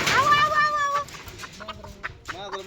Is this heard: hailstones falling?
no